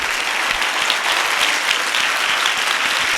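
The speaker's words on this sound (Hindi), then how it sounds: "आपकी ताली छोटी है" Loud, steady clapping from a worship audience at a youth camp fills the clip, a dense, continuous wash of hands without pauses.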